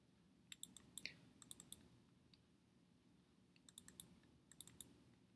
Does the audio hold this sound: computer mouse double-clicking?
yes